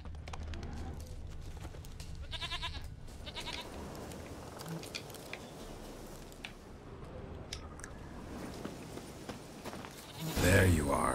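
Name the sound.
goat bleating in the video game The Witcher 3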